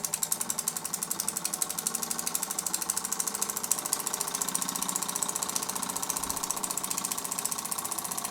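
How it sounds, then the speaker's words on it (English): A live steam engine, the Super Burnac Vulcan, running steadily nearby with a rapid, even mechanical beat of regular chuffs and clicks over a hissy wash. "there was enough steam for the engine to run, so I'm going to stop talking and let you listen to it"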